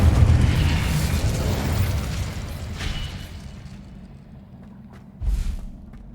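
A fiery burst from the Incendio spell in Hogwarts Legacy, a loud roaring blast that slowly fades, followed by a short thumping burst near the end, with no speech.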